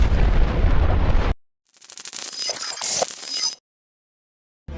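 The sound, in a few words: explosion at the port of Beirut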